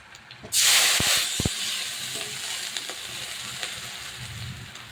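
Fried puti fish tipped into a hot pan with a sudden loud sizzling hiss that slowly fades, marked by a couple of dull clunks against the pan.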